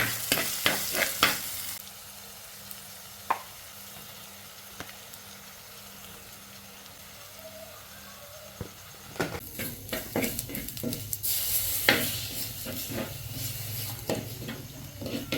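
Fenugreek, curry leaves, green chilli, ginger and garlic frying in hot oil for a tamarind fish curry, a steady close sizzle with brief sharp clinks and stirring scrapes, no voices.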